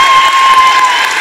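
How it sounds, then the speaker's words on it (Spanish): A comedy cabaret audience gives loud, dense applause and cheering for a birthday guest, a sustained roar of clapping and shouts filling the short stretch. "¡Fuerte el aplauso para Ariadna, que cumple años!"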